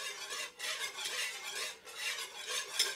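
Beef stock stirred into pan drippings makes continuous scraping and swishing, with a utensil working around the pan in steady strokes, close and fairly quiet, and no talking.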